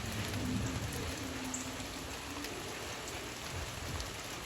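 Rain falls steadily outdoors near a chicken coop, a constant soft hiss of drops on surfaces with a faint low hum underneath.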